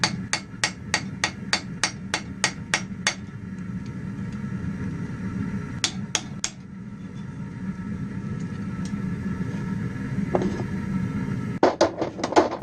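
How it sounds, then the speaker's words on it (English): Sharp metallic ball peen hammer strikes peening rivets on a forged dead-bolt, in a quick run of about ten, then a pause, a few more blows, and another burst at the end, over a low background hum. "mushrooming their ends with a ball peen hammer"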